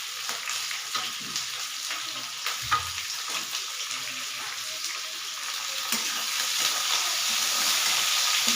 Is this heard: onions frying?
yes